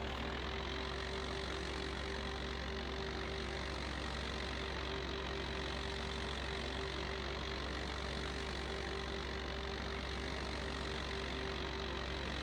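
Tractor engine from the Farming Simulator 25 game, fitted with a front weight, driving along a road: a steady, continuous mid-low engine drone with a constant tonal hum, holding an even level throughout and heard alone.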